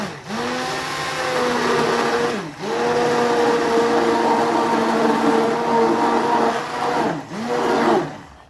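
Kitchen blender blitzing tomato soup made with chopped tomatoes, tomato puree and chilli: a loud, steady motor whir with rising pitch, cut by two brief pauses where the blade stops and restarts.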